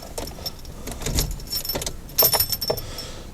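Keys jangle and clink near the microphone as a car key is turned to the accessory position, a few bright metallic rattles in quick bursts with a small click, no voices.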